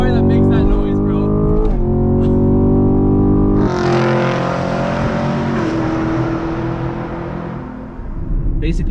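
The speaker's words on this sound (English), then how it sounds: "how can you not get attached to a car that makes that noise" A 6th-generation Chevrolet Camaro SS V8 revs loudly up close, a deep throaty rumble that swells and holds steady before settling, with someone talking over the start.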